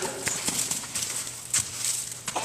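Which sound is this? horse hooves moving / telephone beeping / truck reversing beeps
horse hooves moving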